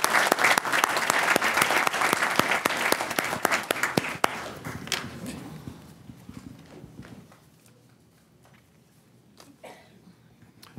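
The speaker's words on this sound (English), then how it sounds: "So let's give another round of applause as they return to their seats." A city council meeting audience in Portsmouth, Virginia, gives a loud round of applause that gradually thins into scattered claps and fades to quiet room noise.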